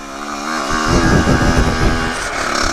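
A Kawasaki KX85 pit bike engine running in cold weather, loud and close, with a buzzy two-stroke rattle that rises in pitch as it revs up unevenly and holds there.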